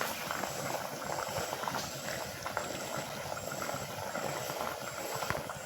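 Semolina rasgulla sweets deep-frying undisturbed in a pan, giving a steady, dense bubbling crackle that holds at an even level throughout, close and alone with no talking.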